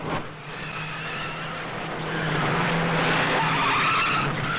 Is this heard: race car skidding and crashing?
yes